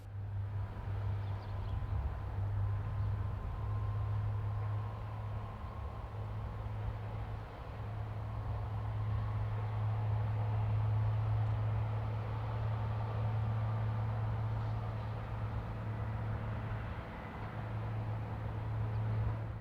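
Two B82500 multiple units in Carmillon livery run on a Provence to Paris service, a steady low rumble and hum that holds evenly at moderate distance for about twenty seconds, with no voices.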